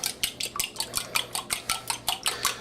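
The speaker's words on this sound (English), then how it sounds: "So we have our 3 eggs. Gonna beat those first, just a little bit." Three eggs being beaten in a bowl for an omelet, a fork or whisk clicking against the side in a quick, steady rhythm of about five strokes per second, close and fairly soft.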